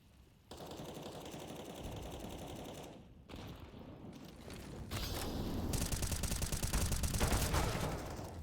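Rapid automatic M4 rifle fire in Counter-Strike on the Vertigo map, several bursts of dense crackling shots with a brief pause near the middle and a longer, louder burst toward the end.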